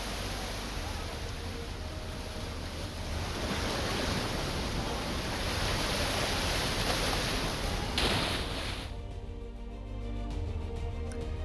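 Fast-flowing floodwater of the Yamuna river rushes in a steady, broad roar with wind buffeting the microphone, continuous and loud before easing slightly near the end.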